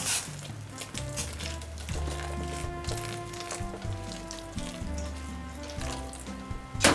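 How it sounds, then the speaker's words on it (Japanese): Water poured into a bowl of gyoza wrapper dough and stirred, a steady watery splashing and scraping with kitchen background noise throughout. "agregamos agua hervida y mezclamos"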